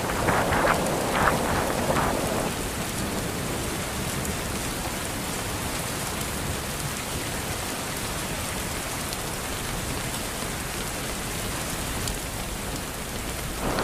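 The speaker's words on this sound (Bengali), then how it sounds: "বৃষ্টিতে আরো অসাধারণ লাগছে।" Heavy rain pours over a village road in rural West Bengal, a loud unbroken hiss with a few louder splashes at the start and a faint roll of thunder, no voices.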